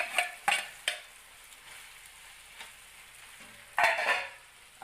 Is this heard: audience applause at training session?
no